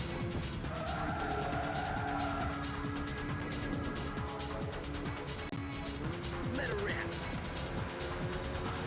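A race car in Ridge Racer V collides with another car amid a constant loud engine roar, with a squealing tire skid early on and a brief impact sound near the end.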